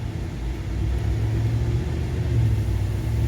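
A Chevy Silverado Trail Boss with the 6.2 L engine on a test drive, heard as a steady, close, low rumble of engine and road noise that holds level throughout, with no talking.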